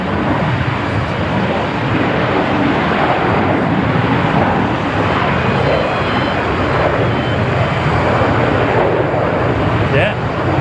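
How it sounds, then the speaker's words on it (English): A jet airliner roars at Melbourne Airport on an intersection departure takeoff, a loud, broad, wind-buffeted rumble that holds steady throughout, with voices talking over it. "Do you reckon this is going to be an intersection departure?"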